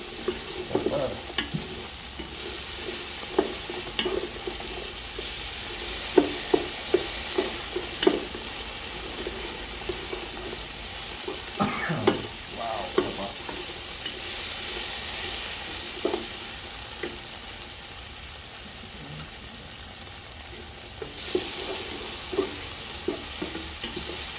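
Carrots stir-fried for chow mein, a steady close sizzle with repeated scraping and clattering stir strokes in an uneven rhythm, no one talking.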